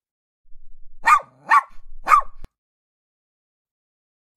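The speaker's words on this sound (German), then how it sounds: "Wir hören die Hunde in der Nachbarschaft bellen." Dogs in the neighbourhood give three distinct barks in quick succession, fairly close and clear, followed by silence.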